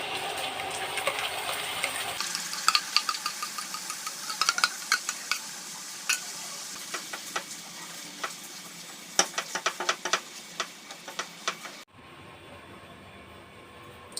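A paste of milk cream for sandesh is stirred in a pan, a spoon scraping in quick irregular strokes over a soft sizzle that cuts off near the end.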